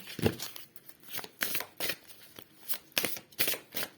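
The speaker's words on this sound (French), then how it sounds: "l'oracle des fées et des lutins, on va prendre une carte." Fairy and elf oracle cards being shuffled by hand, crisp riffling bursts repeating in an irregular rhythm, close and clear with quiet pauses between.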